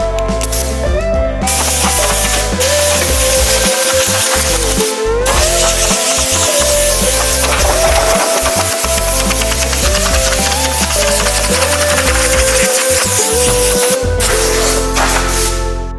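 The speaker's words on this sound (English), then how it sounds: "I just got done sanding this door in 120" Sanding a 1981 Corvette C3 door with 120 grit sandpaper, a continuous rasping scrub that sounds close and loud, with brief pauses between strokes and no talking.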